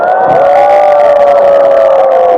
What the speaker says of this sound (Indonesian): Nah itu sorak-sorak apa kurang paham ya